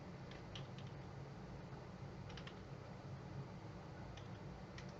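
Quiet clicks of typing on a computer keyboard come in a few short bursts over a low steady hiss.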